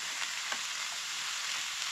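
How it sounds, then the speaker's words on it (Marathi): Cabbage and onion frying in a pan for a Goan-style vegetable dish, a loud, continuous hissing sizzle with a few soft stirring scrapes, heard alone. "ती मिक्स करून घेवया."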